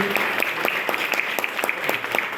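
A seminar audience at a business meeting in a hotel hall applauds loudly, a brisk, close round of many hands clapping with distinct individual claps standing out over a steady roar.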